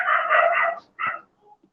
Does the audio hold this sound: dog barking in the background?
yes